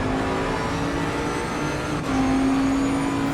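Race cars lapping Suzuka in a racing video game, engines droning steadily up close with a rising, higher-pitched whine near the end as a pack of cars fight behind a BMW.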